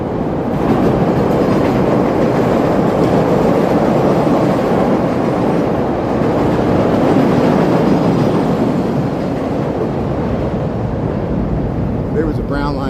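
Chicago elevated Brown Line train rumbling loudly along the tracks, a steady, dense roar with rail clatter filling the whole stretch at close range.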